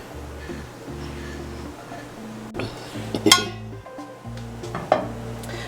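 A grill pan is handled in a home kitchen: a few clanks and clinks of metal cookware against the stove, with steady background hum and faint sizzling, the loudest knock midway through.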